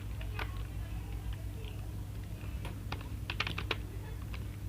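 Computer keyboard clattering as C++ code is typed, scattered clusters of light key taps over a steady low hum, close but fairly quiet.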